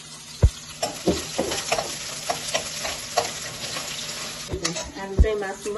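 Onions hit hot oil in a pan for a Nepali pork dish, giving a steady sizzle with sharp crackles and scraping stirs scattered through, close and moderately loud with no talking.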